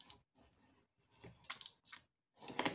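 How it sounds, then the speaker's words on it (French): Scissors snipping through craft material with a dull blade, a series of close, crisp cutting bursts separated by short pauses, heard alone without speech. "les ciseaux. Faut que je change ma lame parce que je crois qu'elle coupe plus."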